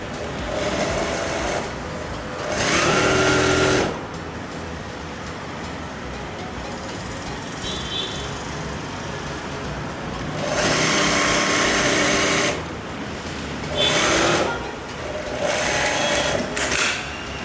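A sewing machine stitching a blouse, loud and close, running in several fast whirring bursts of a few seconds each, with quieter gaps of low background hum between them.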